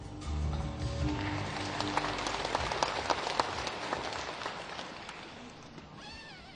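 Sustained audience applause fills a memorial ceremony hall for the first anniversary of the Jeju Air airliner disaster, dense clapping swelling then fading after several seconds.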